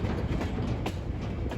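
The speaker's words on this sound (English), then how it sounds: "He's guarding a goods train here," A goods train rolls along a railway line, a steady rumbling roar with faint rhythmic wheel clatter heard from a moderate distance, with no voices.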